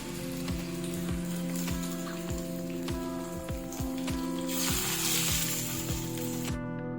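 Chicken momos frying on high gas give a steady, close sizzle with crackling pops and spits throughout, alone with no talk.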